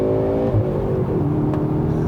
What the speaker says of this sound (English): Oh, that exhaust. That exhaust is just...